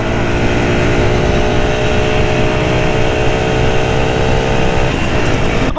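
A 2007 Kymco Quannon 125 four-stroke motorcycle being ridden, its engine droning steadily and loud with a constant harmonic hum and rushing wind, no talk over it.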